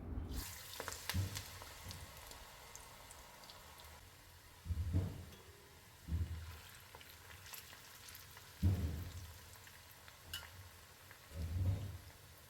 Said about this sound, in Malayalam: ഇനി ഇത് കുറേശ്ശെ എടുത്ത് വറുത്തെടുക്കാം